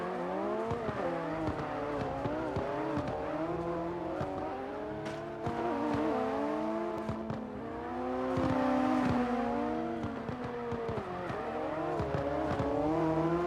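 Drift cars in the SLIDESTYLE 2023 drift tournament, Red Ring round 4, rev hard and wail through rising and falling engine pitches with tire squeal, two cars running close together and loud throughout.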